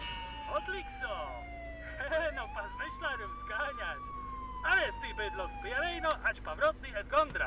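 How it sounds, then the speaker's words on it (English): Police car siren in the video game Contraband Police, wailing and sweeping up and down steadily near the listener while someone talks over it. "Now, I know you hear my siren behind you."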